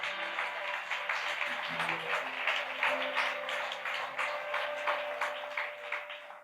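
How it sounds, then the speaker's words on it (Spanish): A church congregation at a Sunday Spanish-language sermon claps together in a sustained, rhythmic burst while a voice speaks over the applause. "Dale fuerte ese aplauso a Dios."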